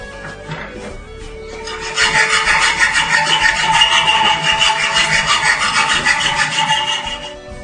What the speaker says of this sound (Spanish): Ahora vamos a limar el gancho, la parte de dentro,